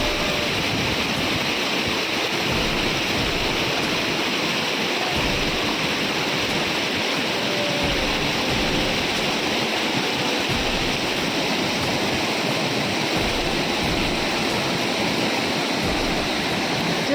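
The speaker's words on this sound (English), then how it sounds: "Just listen to the gurgling of water." Jung Falls waterfall in Arunachal Pradesh roars with a dense, constant rush of cold, swift water, loud and close, with no other sounds breaking through.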